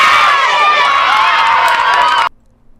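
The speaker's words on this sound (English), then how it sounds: "Fightin' Irish, take us out with a cheer" A high school team crowd roars out a loud, sustained cheer with many voices shouting together close by, then cuts off abruptly.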